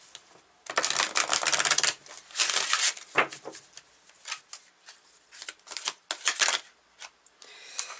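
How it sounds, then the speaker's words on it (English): Tarot cards being flipped and shuffled close by, in quick rustling bursts and crisp snaps with short pauses between, fairly loud against a quiet background. "A lot of cards flipping"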